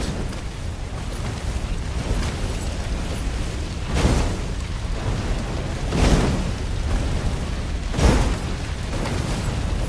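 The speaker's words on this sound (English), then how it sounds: "Renato hated cannon traps." Cannon traps fire in the action video game Stories: The Path of Destinies, booming blasts that land roughly every two seconds over a steady rumbling game backdrop with no voices.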